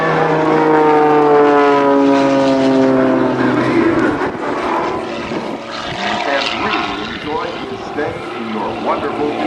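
An aerobatic propeller plane with a custom-built 365-horsepower Porsche engine flies at an air force base air show, its loud droning tone sliding downward as it passes, then fading under an announcer's voice.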